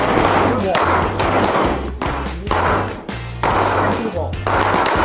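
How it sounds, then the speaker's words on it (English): Gunfire at a shooting class, with sharp bangs repeating in an uneven rhythm over a steady layer of background noise. "After 2 magazines, Forrest went one by one and reviewed our shot patterns"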